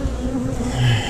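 Honeybees buzzing close by during a hive inspection, a loud steady droning hum that swells slightly toward the end, with no talking.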